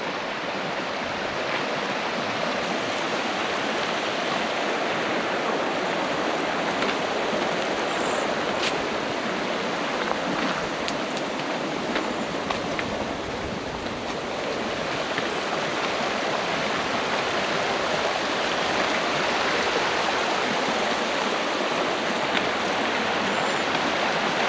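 Steady broadband rush of the Frog Bayou river stream flowing along a trail crossing in the Ozark Highlands, continuous and fairly close throughout with no voices.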